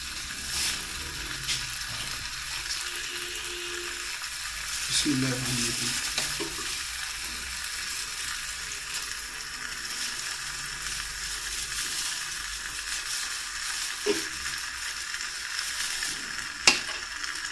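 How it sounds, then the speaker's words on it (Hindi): Beef liver gravy frying and being stirred in a pan, a continuous close sizzle with intermittent scraping and stirring strokes and a sharp clink near the end. "इसको अच्छी तरह भूनी लगा रहे बस"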